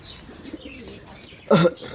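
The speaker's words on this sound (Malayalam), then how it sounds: "നാടൻ പ്രാവുകൾ ഒരുപാടുണ്ട്" A pigeon at a pet shop gives one short, loud coo burst near the end, with soft background sounds before it.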